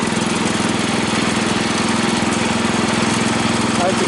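Husky 600 engine running steadily as the throttle is eased back, a dense, rapid mechanical pulse held close and constant throughout.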